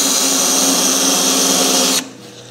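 A power drill whirs steadily at close range, then cuts off abruptly near the end, leaving a faint hum.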